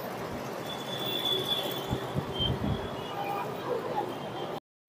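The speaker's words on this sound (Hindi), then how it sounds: "वो है रेलवे स्टेशन, ये है मेट्रो स्टेशन" Trains move through a railway station in Jaipur, a steady rumble of rail cars with a thin, drawn-out wheel squeal on top, heard at a moderate distance. A voice talks faintly through it.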